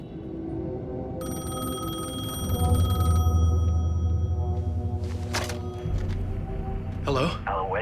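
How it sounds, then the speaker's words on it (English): A payphone rings inside the Alan Wake 2 video game, a bright metallic ring lasting about two seconds over a low, steady rumble of ambience, with voices talking throughout. "The payphone was ringing."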